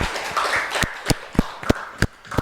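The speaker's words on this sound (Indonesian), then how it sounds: "Tepuk tangan untuk kalian semuanya yang luar biasa." A handful of sharp, separate claps ring out for grade 6 students after their group presentation on turning organic waste into liquid fertilizer. The claps are spaced about a third of a second apart and rise above a low room murmur.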